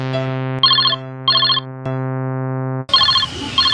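A telephone ringtone plays close and loud, with short bright electronic chime bursts repeating in a steady pattern over a sustained tone, alone without talk.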